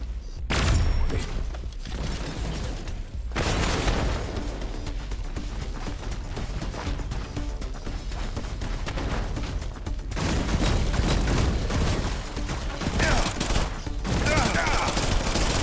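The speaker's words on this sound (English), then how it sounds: "Grenades, dude." Repeated heavy blasts and gunfire-like bursts fill a System Shock Remake firefight, with dense explosive impacts rising at the start and again near the end, loud and continuous without any talk.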